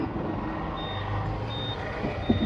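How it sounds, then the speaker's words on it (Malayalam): A Mahindra Furio truck turning in a tight radius sounds its reversing alarm, evenly spaced high beeps repeating over the low rumble of the idling engine. "നമ്മൾ ചെറിയൊരു റേഡിയസിലിട്ടിട്ട് വണ്ടി തിരിക്കാൻ പോവാണ് കേട്ടോ"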